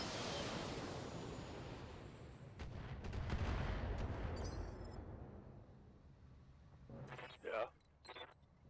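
Heavy mech weapons fire in BattleTech: a deep rumbling blast swells and fades over several seconds, followed by a few sharper, brighter impact bursts near the end, fairly quiet overall.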